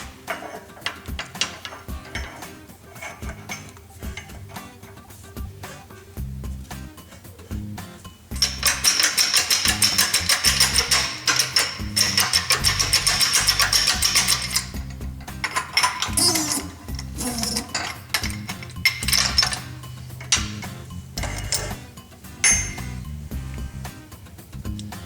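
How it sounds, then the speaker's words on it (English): A press works a pinion bearing off a Honda TRX300 final drive in a workshop, with clicking and ratcheting mechanical sounds and a louder, harsher grinding stretch partway through. "getting ready to press this pinion bearing off here"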